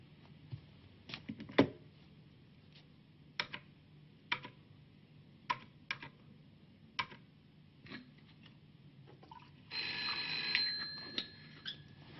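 Telephone in a 1982 French television drama, heard as a series of short sharp clicks and ticks spaced about a second apart, then a brief burst of bright trilling ringing near the end, no voices.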